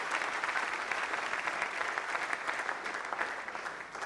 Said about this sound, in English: please a round of applause for Mr. Adekunle.